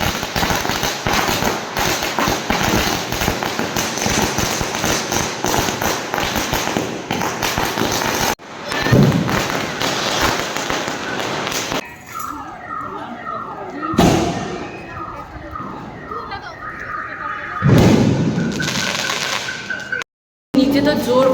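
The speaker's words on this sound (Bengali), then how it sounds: "নিচে তো জোর কদমে বাজি ফাটছে" Firecrackers burst repeatedly outside during Diwali celebrations, a dense crackling barrage of sharp pops and thumps that later thins into scattered loud bangs and whistling rockets, with voices talking in between.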